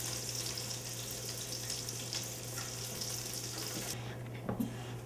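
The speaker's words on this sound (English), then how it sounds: "we're going to put in flour in the pan to make some roux" Flour sizzles in a pan, cooked in sausage drippings for a jambalaya roux, a quiet steady crackle close by, with a faint hum beneath and a brief scrape near the end.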